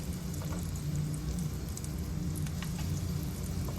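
Green tomatoes fry in very hot grease in an electric skillet, giving a steady, fairly quiet sizzle and crackle with small pops and no voices.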